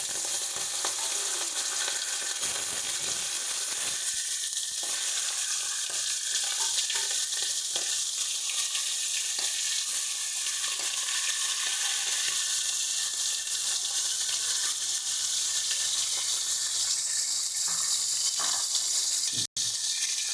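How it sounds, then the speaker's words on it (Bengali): Hilsa fish heads frying in hot oil in a pan make a loud, continuous sizzle and crackle throughout, with occasional faint scrapes of turning and stirring. "মাছের মাথাগুলোকে আমরা সুন্দর করে দু পিঠি উল্টে পাল্টে ভেজে দিচ্ছি"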